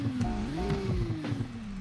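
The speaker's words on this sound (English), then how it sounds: "it does spit flames and you can hear the exhaust popping" A low, rumbling car engine in Roblox Greenville Wisconsin idles and revs slightly, with a few sharp exhaust pops breaking through the drone.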